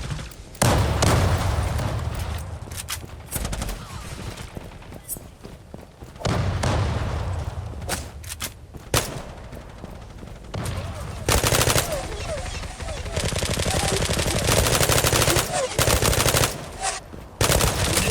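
Bursts of gunfire and automatic weapon fire ring out in an online shooter, coming in repeated loud volleys with short gaps between them, while a player occasionally talks over the shooting.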